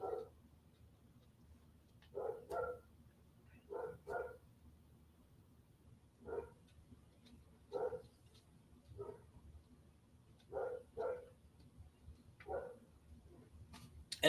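A dog barks repeatedly in short single and double yips, spaced a second or two apart, faint and somewhat distant in a quiet room.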